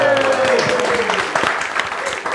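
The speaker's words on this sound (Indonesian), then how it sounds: "Tepuk tangan." An audience applauds at a workplace safety-culture talk show, the clapping dense and steady through the moment and fading slightly toward the end, with a voice briefly speaking over the start.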